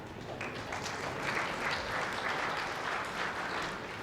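Crowd applause at a lawn bowls match, a steady wash of clapping that holds at an even level for several seconds, with a faint murmur of voices mixed in.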